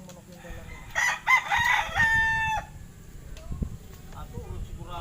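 A rooster crows once at moderate distance, a drawn-out call over quiet background noise with faint talk nearby.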